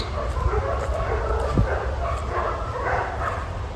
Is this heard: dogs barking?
yes